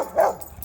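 Dogs at play outdoors give a single short, close bark, loud and alone with no talk over it.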